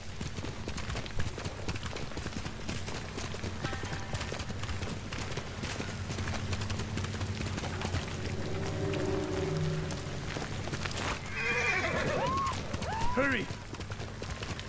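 Horse hooves clip-clop at a gallop throughout in the video game Ghost of Tsushima, with a whinny near the end, steady and close beneath background score and voices speaking.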